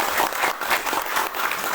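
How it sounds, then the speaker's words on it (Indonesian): A crowd at a corporate recognition event applauds warmly for newly named star leaders, a dense, steady clapping close by and unbroken throughout. "Berikan aplaus yang meriah kepada beliau"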